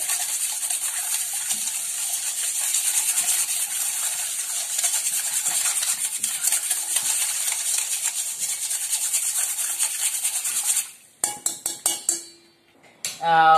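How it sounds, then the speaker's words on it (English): Sugar being stirred into eggless chocolate sponge cake batter with water in a bowl, a steady close scraping and swishing that runs continuously, then breaks into a few short knocks near the end. "And into that add sugar. Now this is half cup sugar that to add. And before doing anything, mix it well."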